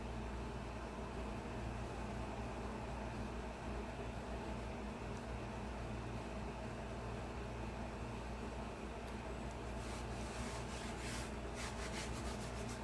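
Fingers rub a previously used, less sticky transfer sheet that is pressed gently onto a surface, making a steady, soft, close-up friction hiss with continuous texture. Faint scratchy streaks appear toward the end.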